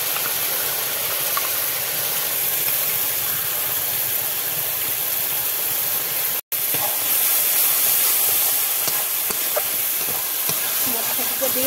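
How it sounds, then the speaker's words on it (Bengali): Pea paste hitting hot, cooked-down spices in a pan gives a loud, steady sizzling hiss that carries on throughout, broken once by a very short cut, with light clinks and stirring scrapes over the sizzle. "এখন দিয়ে দেবো এই যে মটরশুঁটি পেস্ট।"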